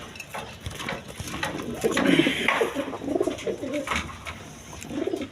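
Pigeons, a breeding pair of one male and one female, give repeated low throaty coos at close range, overlapping in soft bursts over faint background noise.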